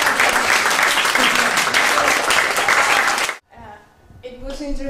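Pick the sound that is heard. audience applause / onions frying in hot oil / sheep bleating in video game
audience applause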